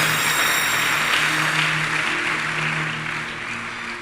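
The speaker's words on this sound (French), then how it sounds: "Acclamons le Seigneur." A church congregation claps together in sustained, dense applause that fills the space, holding steady and then easing slightly toward the end, with no talking over it.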